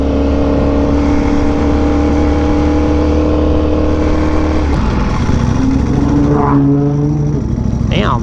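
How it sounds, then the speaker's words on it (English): Nissan GTR engine revving loud and close, a sustained heavy roar with a rising and falling pitch toward the end, mixed with motorcycle engine noise and speech. "Damn, that GTR is loud."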